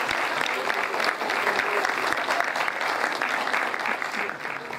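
Crowd applause at a pageant-style ceremony as a Princess 007 sash is presented, a dense, steady wash of clapping filling the room with faint voices mixed in beneath.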